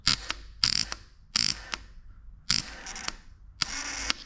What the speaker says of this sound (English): So that solenoid works. You can hear it tripping, and it's trying to fire the starter, but the battery's dead.